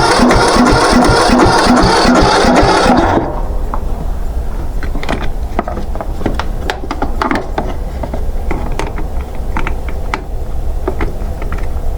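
A Craftsman T1600 lawn tractor engine cranks with a rapid rhythmic chugging for about three seconds, then fires and settles into a lower, steady running note with scattered mechanical clicks and clatter.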